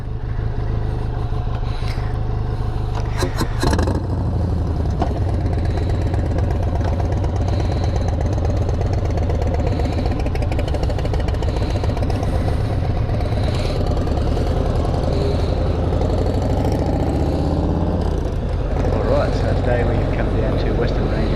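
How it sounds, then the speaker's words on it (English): A Harley-Davidson X500's liquid-cooled parallel-twin engine idles steadily with a low, even throb, close by, while someone talks over it. "this thing is a parallel twin liquid cooled engine"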